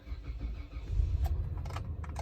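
A 190,000-mile Mitsubishi Montero is cranked with no throttle, a short low churning of the starter followed by the engine catching, with a faint jingle of keys.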